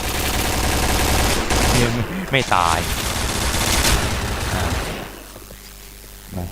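Bursts of rapid gunfire from the game Point Blank crackle over a game soundtrack, with someone speaking briefly in between.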